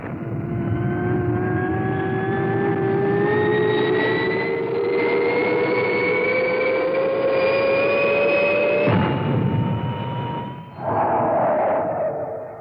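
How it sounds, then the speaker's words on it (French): The XL5 rocket roars off a runway in a 1962 science-fiction TV series, a loud sustained jet-like whine whose pitch slowly rises for about nine seconds, then shifts and fades into a steadier rushing tone. "Décollage réussi."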